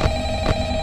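A telephone rings in the horror video game Five Nights at Freddy's, two short bursts of ringing roughly half a second apart over a steady electronic hum.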